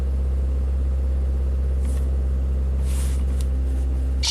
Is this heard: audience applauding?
no